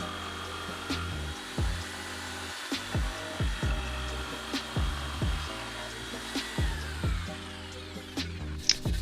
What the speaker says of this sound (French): j'ai fini par découper le contour à la scie sauteuse